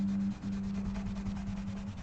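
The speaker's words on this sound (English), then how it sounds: "Giving the frets a good polish." Guitar frets being polished by hand, a steady close rubbing and scrubbing sound with a low hum running underneath, continuous for about two seconds.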